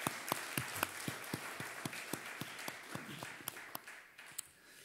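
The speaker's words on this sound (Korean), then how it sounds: "우리 다시 한번 주님께 영광의 박수 올려드리겠습니다" A church congregation claps in praise during a Sunday service, heard as a fairly faint, distant run of regular, evenly spaced claps keeping a steady rhythm for several seconds before thinning out.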